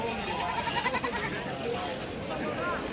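Goats bleating at a busy rural goat market in Dhule, a few calls rising over crowd chatter and nearby people talking throughout.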